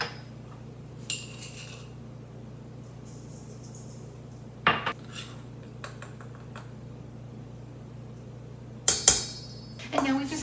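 Blueberries dressed with lemon juice, sugar and cinnamon are tossed in a bowl, with a few scattered clinks and knocks of a utensil against the dish over a low steady hum.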